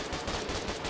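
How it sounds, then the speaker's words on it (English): Rapid bursts of gunfire in the video game Foxhole, in a quick, even rhythm, loud and close, with nothing else audible. "Oh, that's a gunfire."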